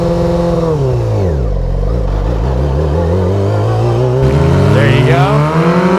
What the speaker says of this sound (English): That's how you do a burnout.